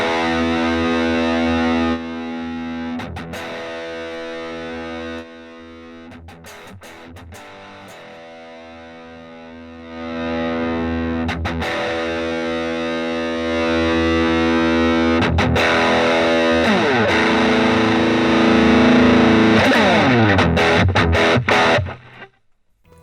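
Electric guitar played through a Vox Mini Go 10 amp with its attenuator, heavily distorted sustained chords and riffs with pauses between phrases, growing louder and fuller before cutting off at the end.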